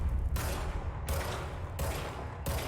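Gunshots in the Control video game, four sharp reports spaced about every 0.7 seconds, each followed by a short decaying echo over a low background rumble, close and distinct.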